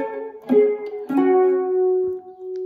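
A three-string guitar slowly plays an opening riff, a few sustained plucked notes ringing out one after another, close and clear with no voices.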